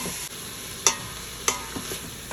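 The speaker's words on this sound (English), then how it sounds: "stirring it around for a few minutes, letting everything soften up" Vegetables softening in a quick cooker pot for chicken and rice soup, a low steady sizzle with two sharp spoon clinks against the pot while stirring.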